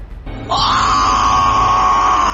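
A man's drawn-out scream of horror in a Hindi horror audio drama, a sharp onset rising into a loud, sustained cry that holds steady for about two seconds, close and alone.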